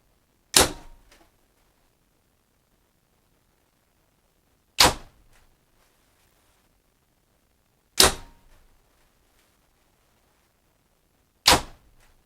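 An 80-pound Prime Nexus 4 compound bow fires four separate shots, each a sharp, loud snap with a short ringing decay, spaced several seconds apart in otherwise silent surroundings.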